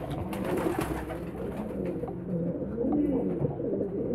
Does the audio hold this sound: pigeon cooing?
yes